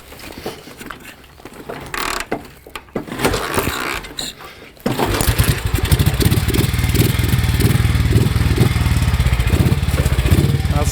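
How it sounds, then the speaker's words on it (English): A single-cylinder motorcycle in a garage coughs, then fires up and settles into a loud, rapid, steady thumping run after a few seconds of quieter fiddling and priming sounds. "Very different sound to the Norton with this single cylinder."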